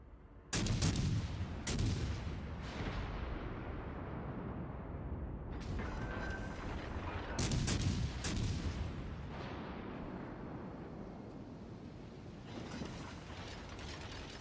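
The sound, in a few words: artillery gunfire from warships in World of Warships Legends video game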